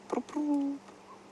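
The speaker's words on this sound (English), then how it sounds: "A couple of birds, just a dove off to the right." Birds calling in the African bush at sunrise, a dove and a drongo: one short, close, clear tonal call with a steady sustained note, set against a quiet windy background.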